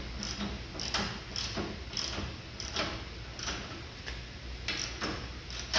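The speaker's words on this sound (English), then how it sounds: "I'm going to take a ratchet and I'm going to screw this" A ratchet turns a bolt into the frame while front cab mounts go onto an S10 frame for a 1948 Chevy truck: a steady run of rapid clicking strokes, repeated every half second or so, close and fairly loud.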